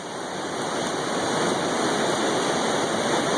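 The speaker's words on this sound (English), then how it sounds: "You can't even see where the water goes. It just flows and flows and flows." Flood water near a Kentucky cave rushes in a dense, steady roar that holds constant and fills the whole short stretch with nothing else heard.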